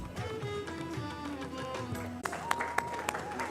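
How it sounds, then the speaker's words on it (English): Audience applause at a convocation ceremony breaks out about halfway through with scattered sharp claps, following a stretch of music and background noise. "Please keep clapping"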